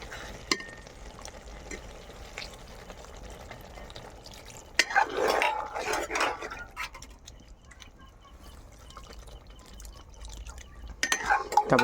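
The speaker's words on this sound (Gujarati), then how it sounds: "આમાં થોડુંક પાણી એડ કરી દેવું." Water pours into Manchurian gravy in a pan on the stove. A soft splashing sizzle rises for a couple of seconds against a low background of quiet bubbling and occasional clinks.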